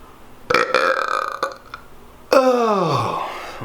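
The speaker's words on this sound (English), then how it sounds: "Oh, it was a monster burp." A loud, close burp rings out, then after a short pause a second, longer belch follows whose pitch drops as it fades.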